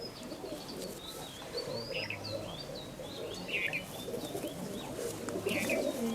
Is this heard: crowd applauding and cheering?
no